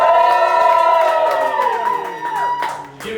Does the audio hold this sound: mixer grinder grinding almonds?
no